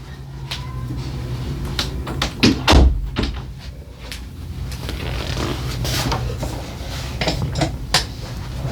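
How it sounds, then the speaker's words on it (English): Indoor door being closed, heard as a scatter of light knocks and clatter building to one heavier thunk near the middle, followed by faint handling noises, with no speech. "Let me close the door real quick."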